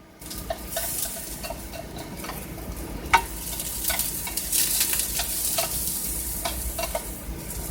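Asparagus fries in a pan and sizzles steadily up close, with occasional clinks and scrapes of stirring against the pan.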